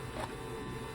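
A Canon PIXMA TR4720 printer scanning and copying gives a steady, close mechanical whir and buzz with a low hum underneath, running evenly for the whole second with no pauses.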